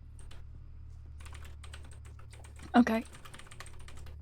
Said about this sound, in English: I love this keyboard.